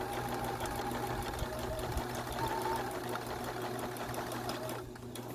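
A sewing machine stitching a fabric mask, running in a steady, close mechanical whir with a rapid needle rhythm throughout that eases off near the end, with no talk.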